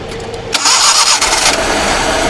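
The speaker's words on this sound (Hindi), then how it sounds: "तो गाड़ी को स्टार्ट कर लें," A Pak Suzuki Mehran Euro 2 with a fuel-injector misfire cranks briefly and then catches, settling into a loud, steady close-up idle with no talk over it.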